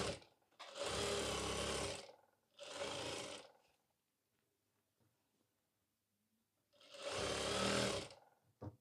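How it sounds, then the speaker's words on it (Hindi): A sewing machine stitches the seam of a ladies' pant in three loud, steady whirring runs, two close together and a longer one after a near-silent pause. "अब यहाँ हम सिलाई लगाएँगे।"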